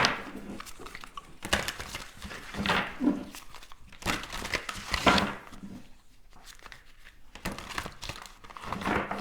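A deck of tarot cards is shuffled by hand, close-up bursts of papery riffling and crinkling in irregular clusters, with brief quieter gaps between handfuls.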